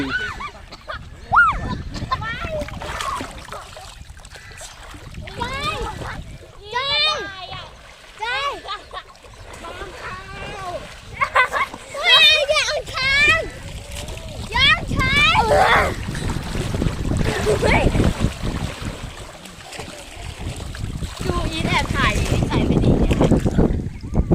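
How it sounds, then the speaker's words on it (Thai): Outdoors on the Ping River at Ban Pa Phai, where children play in the water on a summer raft outing. Voices chatter and call close by over gusts of wind, occasional water splashes and soft murmuring. "นี่คือ บรรยากาศแม่น้ำปิงบ้านป่าไผ่นะครับ"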